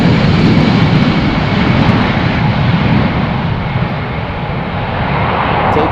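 An ITA Airways jet airliner roars on its takeoff run from Amsterdam Schiphol in windy, showery weather, a loud, steady broadband engine rumble that holds throughout with no voices.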